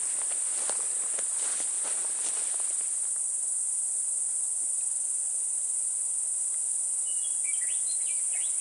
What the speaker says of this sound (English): that's what you hear right now, the cicadas here.